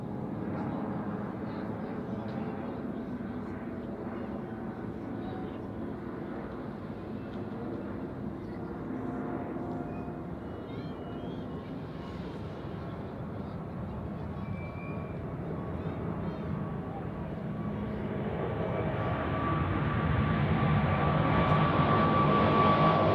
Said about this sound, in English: we have the next departure on runway 16